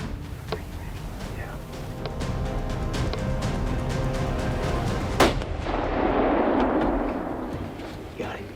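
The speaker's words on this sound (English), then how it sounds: "John and Ashley are hoping they can put the Winchester 308 to good use." A Winchester .308 rifle shot rings out while deer hunting, a single sharp crack midway through with a rolling echo, amid outdoor ambience and faint rustling.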